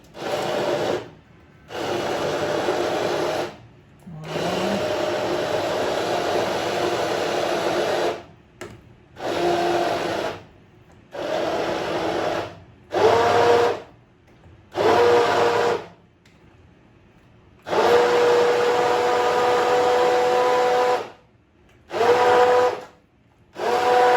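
A kitchen blender pulses through homemade tomato pizza sauce in a series of loud whirring runs, some long, some brief, broken by short silences between bursts, with no speech.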